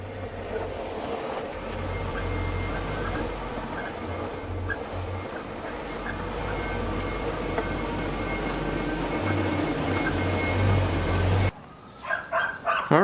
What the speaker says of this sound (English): now I'm just going to try and fit the wagon inside the garage just to see if it'll work